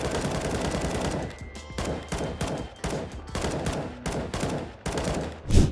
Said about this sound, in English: I take the M4 and start shooting through the smoke